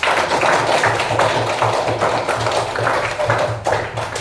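Classroom applause for a schoolchild returning to their seat, a steady dense patter of many small hands clapping together at close range, continuous throughout with no talking.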